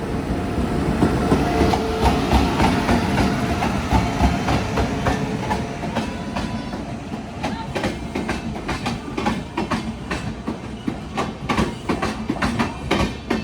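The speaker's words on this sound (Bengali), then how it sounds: "ঢুকছে train number one sixty four six কেরালার তিরুবনন্তপুরম থেকে মুম্বাইয়ের এলটিডিগামী নেত্রাবতী এক্সপ্রেস" The Netravati Express, running from Thiruvananthapuram in Kerala to Mumbai LTT, rolls into a station loop line on the Konkan route in the monsoon, with a loud, steady rumble and a rapid, rhythmic clickety-clack of wheels over rail joints.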